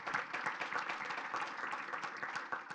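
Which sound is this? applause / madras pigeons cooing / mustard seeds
applause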